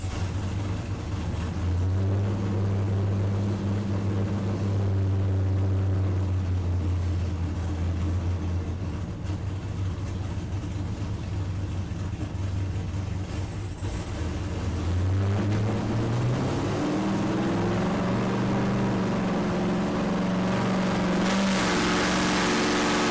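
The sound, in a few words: LS-swapped car engine revving on a dyno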